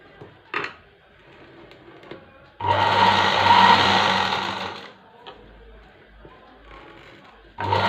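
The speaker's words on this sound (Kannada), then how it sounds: "ಇದ್ರ ಮೇಲೆ ಇನ್ನೊಂದು ಸ್ಟಿಚ್ನ ನಾನು ಹಾಕ್ಕೊಳ್ತಾ ಇದ್ದೀನಿ" A sewing machine stitches a cross strip, whirring loudly in a burst of about two seconds before stopping, then starting again briefly at the end; quieter handling noises and faint low sounds fill the gaps.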